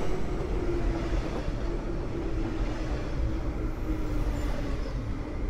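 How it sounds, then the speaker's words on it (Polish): A Koleje Mazowieckie Stadler Flirt ER160 electric multiple unit passes through Warszawa Powiśle station with a continuous, loud rolling rumble and hum. The noise holds steady throughout, with no voices. "Teraz jeszcze podejmiemy Flirta ER160 kolei mazowieckich do Skierniewic."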